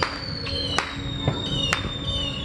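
Fourth of July fireworks bursting outdoors at night, several sharp booms and crackles spaced across a few seconds against a steady background hiss, with no talk.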